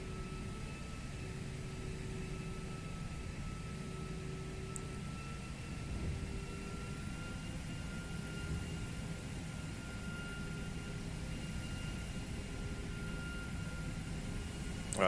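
Airbus airliner taxiing on the ground in a flight simulator game, giving a steady, unbroken engine drone with a faint whine held throughout, with no voices.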